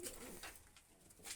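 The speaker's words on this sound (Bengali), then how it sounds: "আর দুটো পায়রা আছে," Rajshahi Giribaz roller pigeons coo softly, a faint, low, distant-sounding murmur with no one talking.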